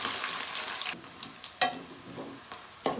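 Sliced onions fry in a pan, a close sizzle broken by a few sharp stirring scrapes that bring brief louder crackles, with no voices.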